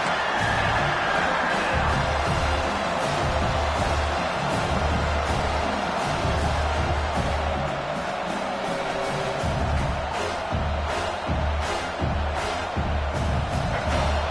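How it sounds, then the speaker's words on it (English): The crowd at a Michigan at South Carolina college football playoff game roars steadily as the home defense works in the red zone, a dense, continuous wall of cheering that holds loud throughout. "the crowd coming to life here, trying to help this defense down in the red zone"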